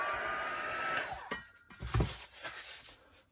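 A hair dryer or heat tool blows on an art journal page for a couple of seconds, then cuts off, followed by a few soft clunks and handling knocks.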